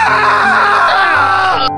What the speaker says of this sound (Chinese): 顿时地下室传来撕心裂肺的惨叫声